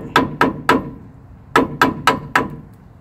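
Hammer tapping parts loose during a rear brake job on a Ford F-150, pads and rotors being changed: six sharp metallic strikes, three in a quick group, a pause, then three more, close and loud with no talk.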